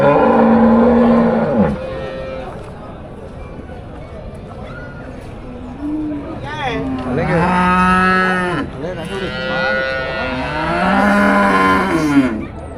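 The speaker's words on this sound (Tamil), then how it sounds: "எல்லாம் பால் மாடு" Dairy cows at the Melapalayam cattle market moo loudly and repeatedly, several long, drawn-out calls close by, with market chatter and background voices running underneath.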